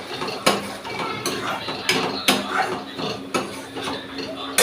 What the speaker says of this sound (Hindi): तो यहाँ पे अब हम डालेंगे टमाटर। ठीक है, इसको अच्छे से एक मिक्स दे देंगे।